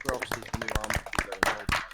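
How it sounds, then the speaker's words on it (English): A small group of podcast hosts claps briefly, sharp uneven hand claps close to the microphone, mixed with talking and laughter. "round of applause for that"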